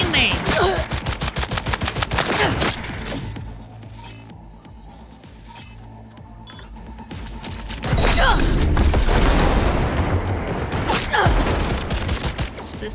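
Dense bursts of rapid gunfire from Cyberpunk 2077 rattle loudly for several seconds, ease off to a quieter stretch, then return in another heavy volley, with no voices.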